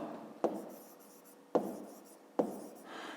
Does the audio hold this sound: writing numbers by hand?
yes